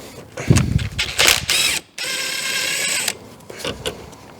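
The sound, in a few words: ratchet wrench on a 10 mm bolt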